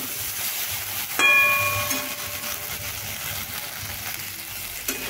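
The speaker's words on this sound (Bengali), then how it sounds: "মিশিয়ে এইভাবেই আমি ঢ্যাঁড়সগুলোকে ভেজে নেব।" Okra fries in a pan with a continuous soft sizzle; a sharp metallic clink rings out once early on, and a small knock comes near the end.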